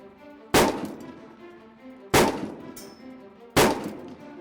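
Three loud, sharp rifle shots at a range, spaced about one and a half seconds apart, each with a sudden crack and a brief ringing decay, with no talking between them.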